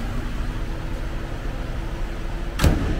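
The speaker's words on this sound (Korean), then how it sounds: "굉장히 부드럽게 시동이 걸리고 있습니다" A car engine starts and runs smoothly as a steady low rumble throughout, with one brief knock near the end.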